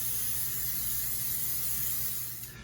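A steady, loud hiss of an aerosol cooking spray held for a few seconds, close to the mic, tapering off at the end, with no talking.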